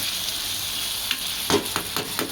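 Green chili chicken masala is stirred in a hot pan, with a soft continuous sizzle broken by several scraping stirs near the end, close and fairly quiet.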